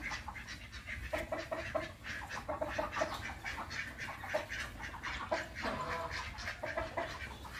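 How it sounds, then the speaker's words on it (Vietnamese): Ducks and chickens kept for eggs at a Củ Chi garden homestead call over one another, a continuous mix of quacks and clucks at moderate distance, with no one talking. "Vịt gà quá trời luôn quý vị."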